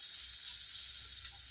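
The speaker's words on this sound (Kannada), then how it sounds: "ಹೆಚ್ಚಿಟ್ಟ ಬೆಳ್ಳುಳ್ಳಿ, ಸ್ವಲ್ಪ ಫ್ರೈ ಆಗಬೇಕು." Chopped garlic fries in a pan with a soft, steady sizzle and hiss. The sound stays even and fairly quiet throughout, with no talking.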